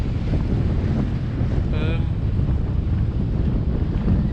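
Steady wind at 13 to 20 knots rushes across the microphone with the wash of one-to-two-metre waves against a sailboat off Cornwall, a continuous blustery roar with no pauses.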